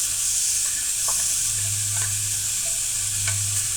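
Chopped capsicum stirred into cabbage in a hot frying pan, a steady sizzle with occasional scraping taps of the spatula, close and continuous with no talking.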